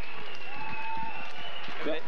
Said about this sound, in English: The crowd's starting to get back into it